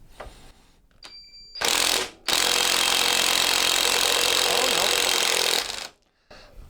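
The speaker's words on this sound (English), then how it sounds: "Let's go and try the impact gun." A lightweight pneumatic impact gun, run off an air compressor during a Honda CB750 clutch rebuild, gives two loud, rattling hammering bursts at close range, a short one followed by a longer one of about three seconds, with brief quiet mechanical sounds around them.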